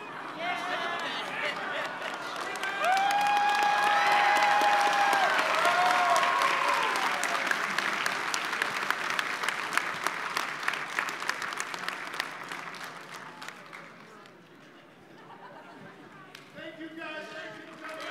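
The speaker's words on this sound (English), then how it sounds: "Give a big round of applause to Greg Cipes, Tara Strong, and Khary Payton, everybody." A studio audience breaks into loud, sustained applause with cheers and whistles for a cast panel, swelling, then gradually thinning out toward the end.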